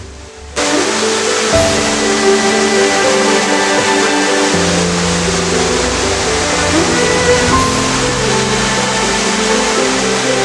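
Water crashing down at Bamni Falls in Purulia, a loud, continuous roar of falling water that starts abruptly and holds steady throughout, close up and with nothing else heard over it.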